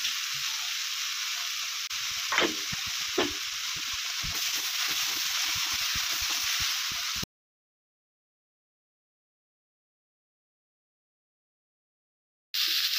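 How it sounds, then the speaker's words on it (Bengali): Eggplant and other vegetables frying in a pan for a Bengali pui mituli chorchori, a steady close sizzle broken by a couple of scraping stirs, then dead silence for several seconds before the sizzle briefly returns. "সবজিগুলো ভালো করে ভেজে নিয়েছি, এবার বেগুন দিয়ে দিচ্ছি।"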